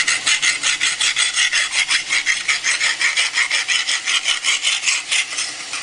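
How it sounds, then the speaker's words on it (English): A half round file, held by hand, rasps along the inside edge of a metal air cannon barrel clamp in a steady close rhythm of about twenty-five long even strokes. "To do the inside, however, we're going to use a half round file, and just by holding it by hand"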